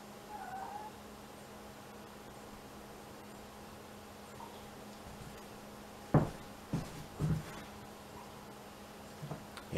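A cat meows a few times in a quiet recording studio during a freestyle session, faint and close, after a long stretch of near-silence with a steady low hum.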